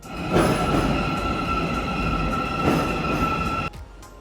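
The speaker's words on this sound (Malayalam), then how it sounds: "കൂട്ടത്തിൽ മെട്രോ യാത്രയും തരപ്പെടുത്തി" A metro train in Kazakhstan rumbles steadily with a sustained high whine and broadband roar, close and loud, then the noise drops off abruptly near the end.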